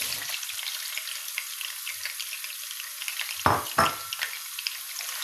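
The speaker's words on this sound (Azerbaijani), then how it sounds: "soğanımızı yaxşıca burada beləcə qovururuq" Onions frying in hot oil in a pan while chicken chigirtma is being prepared, a steady close sizzle with two louder bursts of crackling and stirring near the middle.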